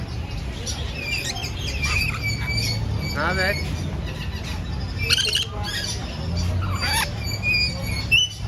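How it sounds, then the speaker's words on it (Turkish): Parrots and cockatiels at an exotic animal market in Thailand make scattered sharp squawks and chirps over a dense crowd murmur, while a person speaks briefly nearby. "Alın size sultan papağanı."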